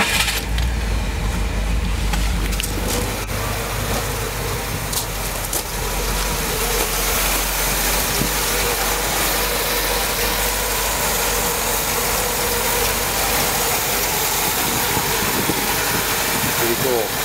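A 1967 Cadillac Eldorado with a 429 V8 idles steadily, a continuous loud low rumble filling the whole stretch with no clear break.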